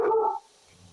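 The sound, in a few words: dog barking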